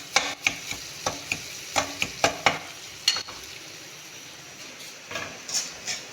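Semolina roasting in ghee in a pan, stirred with a spoon that clinks and scrapes in a steady rhythm of sharp taps over a soft, continuous sizzle, close and alone.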